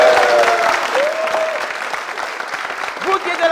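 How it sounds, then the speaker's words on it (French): A studio audience of graduates applauds, a dense patter of clapping hands from a modest crowd, with a presenter's voice carrying over the applause. "aux bacheliers qui sont avec nous et qui vont s'applaudir"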